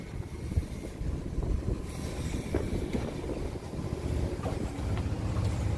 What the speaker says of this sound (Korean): 아, 바람 많이 분다.